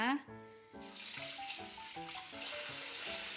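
Tap water runs steadily into a container to soak rice at home, splashing continuously while a voice talks over it.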